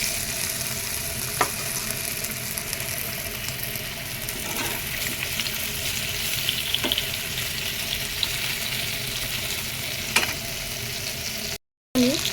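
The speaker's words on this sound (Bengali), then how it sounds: "এই তেলের মধ্যেই আমি ওল আর আলুগুলো হালকা করে ভেজে নেব" Taro, elephant foot yam and potatoes frying lightly in hot oil in a home kitchen, a steady sizzle with occasional stirring clinks and scrapes, close by with no talking.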